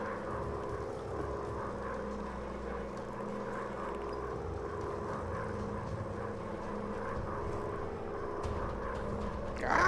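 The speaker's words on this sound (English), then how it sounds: "Flying all over my plane here." A WW1 fighter plane's engine drones steadily in the Warplanes VR flight game, a constant low propeller hum running without a break.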